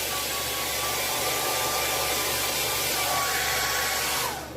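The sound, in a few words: blow dryer drying duck feathers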